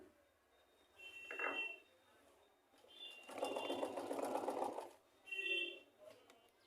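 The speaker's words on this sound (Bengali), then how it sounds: "দেখেন সেলাই কিন্তু কিছু জায়গায় হচ্ছে আবার কিছু জায়গায় এই যে ফাঁকা ফাঁকা হয়ে যাচ্ছে" A sewing machine with a skipped-stitch fault runs in short bursts, with one longer steady whirring run in the middle, fairly quiet and close by, with brief gaps of near silence between runs.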